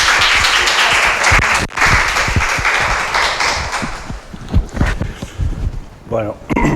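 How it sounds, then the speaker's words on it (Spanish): Audience applause greeting a professor before a talk on the psychological impact of COVID-19, dense clapping that thins into scattered individual claps and fades, with a voice starting near the end. "Démosle una calurosa bienvenida al profesor con un aplauso."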